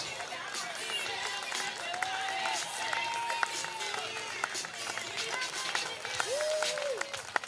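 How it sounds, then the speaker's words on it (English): An audience applauds at a charity fashion show, a continuous dense clapping wash with cheers, while a voice speaks intermittently over it. "them a big round of applause, everybody"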